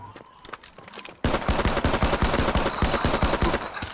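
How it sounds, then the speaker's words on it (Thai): Rapid, loud gunfire bursts out in a shooter video game after a quieter opening, a dense run of close shots continuing steadily to the end. "เฮ้ยได้ยินแต่เสียงใครยิงผมอ่ะ"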